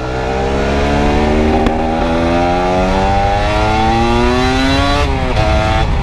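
A Cagiva Mito 125 two-stroke motorcycle engine revs hard under way, its loud buzzing note climbing steadily in pitch over several seconds before a quick drop and rise near the end, with wind noise throughout.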